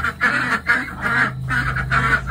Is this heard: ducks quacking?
yes